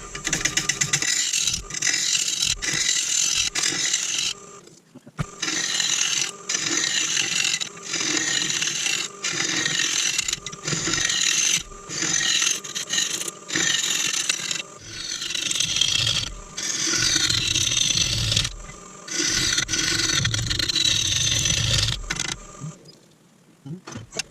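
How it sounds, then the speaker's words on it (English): Woodturning lathe with a tool cutting away an MDF board glued under an oak and resin platter, a loud continuous scraping rasp in long bursts with short pauses as the tool is repositioned. "start turning away this horrible MDF board that I stuck on there to keep everything flat"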